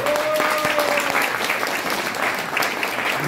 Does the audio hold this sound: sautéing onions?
no